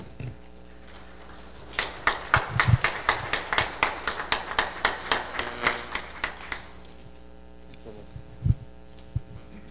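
Audience applause at a university researcher recognition ceremony in Puno, welcoming the vice-rector of research; a burst of steady clapping rises, holds for about five seconds, then fades out, with a few isolated thuds afterward.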